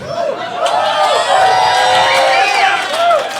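A comedy-club audience at a comedian's stand-up set breaks into cheering and whoops, loud and sustained, with shouting voices rising and falling across the crowd.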